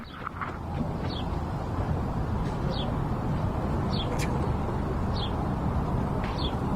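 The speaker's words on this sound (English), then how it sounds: "so then you just hear the bird chirping." Birds chirp outdoors at a Chicago lakefront during a live morning report, several short rising calls repeating about once a second over a steady broad background rumble.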